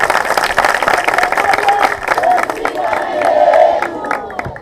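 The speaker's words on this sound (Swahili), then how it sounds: "Naomba tumpigie makofi." Audience applause and cheering for the President of Zanzibar at a government ministry event, a steady crowd roar of clapping with some whoops and voices mixed in, swelling slightly near the end.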